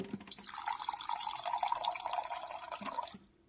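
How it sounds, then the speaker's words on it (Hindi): Water runs from a tap into a container in a steady splashing, gurgling stream for about three seconds, then cuts off abruptly, with no talk. "पानी भरते हैं"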